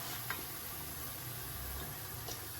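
Potato puris deep-frying in hot oil, a steady low sizzle and bubbling that runs throughout at a moderate level, with a couple of faint clicks from utensils.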